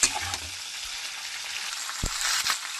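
A paste of ginger, cumin, coriander and chili, with turmeric and salt, fries alongside mixed vegetables and a fish head. The steady, close sizzle carries a couple of soft stirring knocks.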